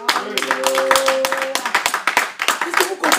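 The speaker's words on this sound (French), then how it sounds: "Est-ce qu'on peut applaudir?" An audience claps at a Congolese diaspora gathering in Sweden: sharp, fairly rhythmic hand claps mixed with voices and a sustained sung or spoken tone at the start.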